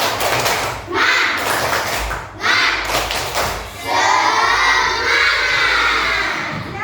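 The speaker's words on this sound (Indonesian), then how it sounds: "Ayo coba saya tepuk semangat, tepuk semangat." A classroom of pupils performs a rhythmic spirit clap, bursts of loud claps and thumps in a set pattern mixed with excited children's shouts and cheers, close and energetic.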